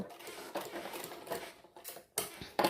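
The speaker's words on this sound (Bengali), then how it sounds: "একটা কাপড়ের উপরে আরেকটা কাপড় এইভাবে আমরা সেলাইটা করছি" A sewing machine runs in short bursts while stitching the front panel of a bra-cut blouse, layering one piece of fabric over another, with quiet rapid needle rattling and brief pauses between runs.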